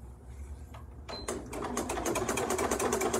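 A Janome Flower Stitcher sewing machine runs without forming stitches because the lower thread was not pulled up. Rapid, even clattering starts after a brief quiet moment and grows steady and close.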